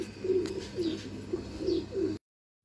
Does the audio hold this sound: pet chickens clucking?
no